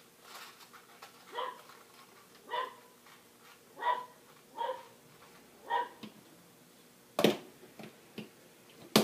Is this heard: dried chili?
no